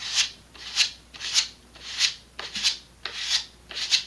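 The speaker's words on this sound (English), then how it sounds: "sanding block, and I'm just going to go around that edge" A sanding block rasps back and forth along a model rocket fin edge in steady, even strokes, about seven close scratchy passes with no talking.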